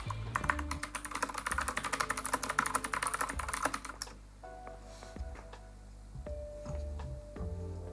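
Rapid typing on a Keychron K8 80% tenkeyless mechanical keyboard, dense fast clacking for about four seconds, then slower scattered keystrokes, close and clear with no talk.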